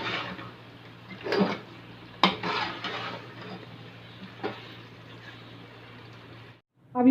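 Meat being roasted and stirred in a pot for a quick biryani, with a steady low hum under scattered clinks and scrapes of a utensil against the pot, one sharp knock near the middle.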